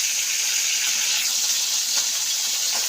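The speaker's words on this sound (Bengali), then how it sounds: "তো এই যে মাছগুলো এবার উল্টে দেবো। তো বেশি ভাজবো না, হালকা করে ভাজবো।" Koi fish frying lightly in oil, a steady, loud hiss of sizzling that fills the whole stretch without pause and without any speech.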